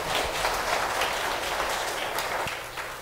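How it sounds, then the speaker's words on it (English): A church congregation claps together during a Sunday morning service, a steady dense patter of many hands filling the room for a few seconds before thinning slightly at the end. "Let's give the Lord a clap this morning."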